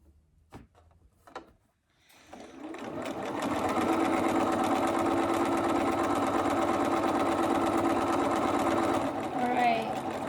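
A sewing machine stitching a fabric mask starts after a few light clicks and handling noises, then runs in a steady, close, continuous whir until slowing near the end.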